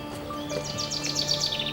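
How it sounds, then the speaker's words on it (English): Darwin's finches in the Galapagos chirping in a quick, bright flurry of short tweets over a steady low background hum, fairly close and moderately loud. "Those are Darwin's finches chasing my lunch."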